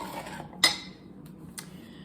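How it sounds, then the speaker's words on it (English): Peeled, diced potatoes tumble into a crock pot, giving one sharp clattering clink followed by a couple of softer knocks against the pot. "Put the potatoes in."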